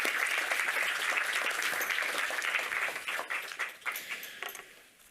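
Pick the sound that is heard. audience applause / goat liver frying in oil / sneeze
audience applause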